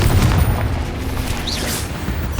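Confringo fire blast spell in the Hogwarts Legacy video game, a sustained loud rumbling boom with low-end crackle and a brief whooshing burst partway through, no talk over it.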